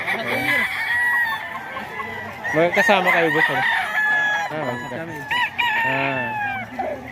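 A two-year-old White Kelso rooster, about 2.5, crows repeatedly at close range among other farm fowl, with clucking around it and someone talking over parts of it.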